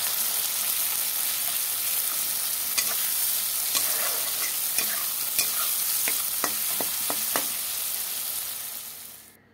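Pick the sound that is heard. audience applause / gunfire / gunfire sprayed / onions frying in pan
onions frying in pan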